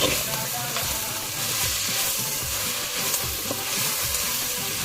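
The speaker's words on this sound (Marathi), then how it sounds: "आता एक 2-3 मिनटं कांदा गोल्डन ब्राऊन होईस्तोवर असंच फ्राय करून द्यायचं आहे." Onions sizzling and frying steadily in a pan over a traditional wood-fired stove while Vasai sarpotel is cooked, a dense continuous crackle with occasional stirring scrapes.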